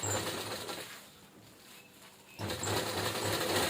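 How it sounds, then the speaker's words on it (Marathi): Sewing machine stitching along the side of a cloth tiffin bag, a fast mechanical whir that runs, pauses briefly in the middle, then starts again, close and fairly quiet. "आता ह्या पण साईडनं अशी शिलाई देऊन घेणार आहोत."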